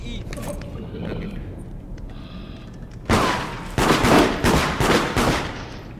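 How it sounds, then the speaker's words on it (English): Gunfire in the video game Deceit: a burst of sharp, loud shots begins midway and repeats in a quick irregular volley over faint background sound. "Why are they shooting?"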